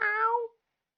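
A single short cat meow, clear and close, lasting about half a second before silence.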